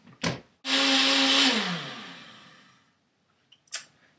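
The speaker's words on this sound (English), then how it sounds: "And we're going to go ahead and blend this up really nicely." A blender whirs at high speed blending raw chocolate almond milk made with honey, sea salt and vanilla, one loud sustained run that gradually winds down, framed by short clicks before and after.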